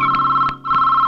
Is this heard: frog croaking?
no